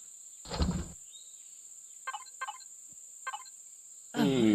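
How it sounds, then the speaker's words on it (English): Crickets chirping in Starfield, a sci-fi video game: a few short, faint chirp bursts spaced across a quiet background, with a steady high whine throughout, framed by louder noise at the start and end. "those are the annoying crickets."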